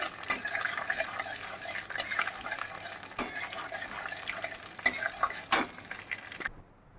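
Spices including black pepper fry lightly in a pan for chicken malai curry, a soft sizzle under sharp clacks and scrapes of a utensil stirring against the pan, loud and close.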